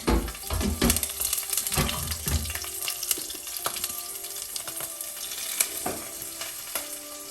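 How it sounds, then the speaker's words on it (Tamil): Green chilies, ginger and garlic sizzle and fry in hot oil for mutton chops, with a few stirring scrapes at the start, then a steady close crackle that settles into a quieter hiss. "இஞ்சி பூண்டு, போட்டு வதக்கிடுவோம்."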